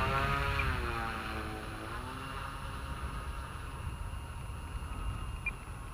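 Pulse XT60 electric RC airplane with a 78-inch wing, flying on a 6-cell battery, its whining motor passing with a falling pitch before settling into a steady, moderately distant drone, with a voice heard briefly.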